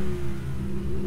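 A 2.3-liter turbocharged car engine revs hard in sport mode, a loud, steady, close-up mid-pitched drone rising slightly in pitch across the short burst, with no talking.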